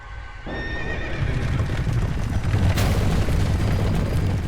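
A horse whinnies loudly amid heavy rumbling and booming, with clattering hooves beneath a dense, continuous roar of game noise, from the Executioner's Chariot boss fight in Dark Souls II.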